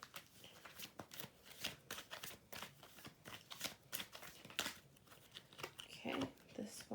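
Tarot cards are shuffled by hand for a reading, a steady run of quick riffling and slapping bursts that continues for several seconds with faint rustling between them.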